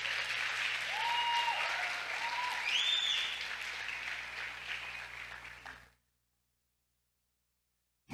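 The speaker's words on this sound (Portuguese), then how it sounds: "Você pode aplaudir o Senhor pela vida da pastora Viceu?" A church congregation applauds during a service, a dense, steady wash of clapping from many hands that holds for about six seconds and then cuts off abruptly into silence.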